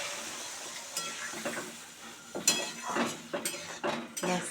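Water from rinsing a blender jar is poured into spice paste frying in oil for a thin Bengali fish curry with drumsticks, setting off bursts of sizzling, stirring and a few metal utensil clinks against the pan.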